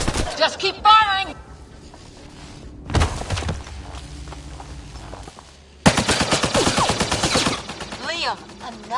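Automatic gunfire in Mass Effect Andromeda comes in several loud rapid bursts with pauses between, the longest volley near the end, and voices speaking in between.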